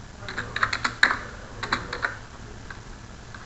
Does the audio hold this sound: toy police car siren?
no